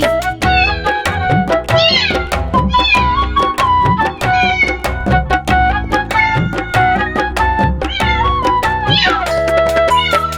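A kitten meows again and again over a bouncy children's rhyme melody, the mews loud and prominent throughout against steady musical backing.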